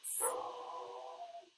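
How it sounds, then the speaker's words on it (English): A puppy in a yard gives a single drawn-out yelp that fades into a whine, fairly faint and heard alone without talk. "the puppy dog, as it's probably barking at a cat in the yard"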